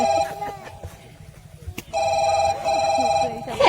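A telephone rings in a warbling electronic pattern in two bursts separated by a short gap, loud and close, with brief background noise between the rings.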